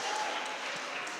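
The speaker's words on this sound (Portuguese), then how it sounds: "Certamente que essas palmas é para Jesus," Church congregation clapping together, a steady dense patter of many hands, moderately loud and continuous throughout with no pause.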